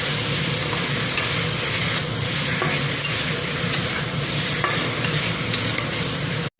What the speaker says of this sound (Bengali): ভেজে রাখা কই মাছগুলো এখন দিয়ে দিব, তারপর কষিয়ে নিব একটু